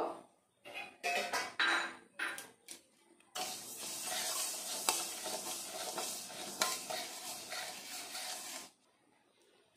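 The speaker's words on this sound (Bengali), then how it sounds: "এবার কড়াইতে দিয়ে দেব মুগের ডাল," Dry moong dal rattles and sizzles in a hot pan while being stirred, a steady scraping frying noise after a few short bursts, then it stops.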